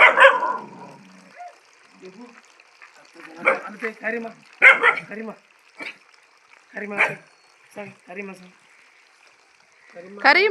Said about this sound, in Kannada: ಸೊ ಇದು ನಮ್ಮ ನಾಯಿ.